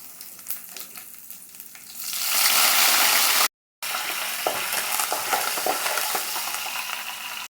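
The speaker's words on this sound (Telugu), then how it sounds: "ఆయిల్ వేడెక్కిన తర్వాత పోపులు వేసుకోవాలి." Tempering spices hit three or four spoons of hot oil in a pan for a gongura and soy chunk curry. After two quiet seconds a loud, steady sizzle erupts, breaks off briefly, then crackles on close up.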